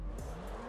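Car tires skidding on pavement in GTA 5, a short sustained squeal with engine noise under it, close and steady, with no talk.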